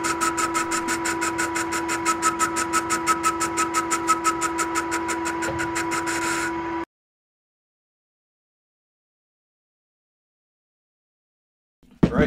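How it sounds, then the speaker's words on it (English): A lathe turning at about 250 to 300 RPM bores out a steel weight plate, giving a steady close hum with regular rhythmic pulsing for about seven seconds before it stops abruptly into silence. "I felt a little more comfortable turning the speed up to, I think, 250 or 300 RPM, just so I can sort of get through the boring a little faster."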